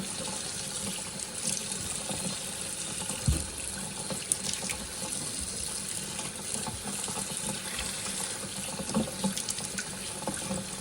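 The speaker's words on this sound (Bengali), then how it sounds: "মাটি থেকে শুরু করে বিভিন্ন ময়লা এখানে আছে, তাই আমি একটু একে ধুয়ে নিচ্ছি" Feijoa fruit being washed under a running kitchen tap, a steady broadband rush of water splashing into a sink with occasional small knocks and clatters, continuous and close.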